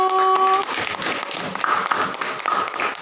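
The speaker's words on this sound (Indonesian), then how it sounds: "Berikan tepukan yang gemuruh buat kelompok 1." A class of primary-school pupils at a group discussion claps loudly for group 1, a dense, continuous wash of clapping filling the room for about three seconds with faint voices beneath.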